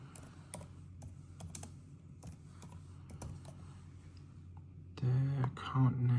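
Keys tapped on a MacBook keyboard while a password is entered, a run of light, irregular clicks up close over a low steady hum, followed by a louder burst of mixed noise near the end.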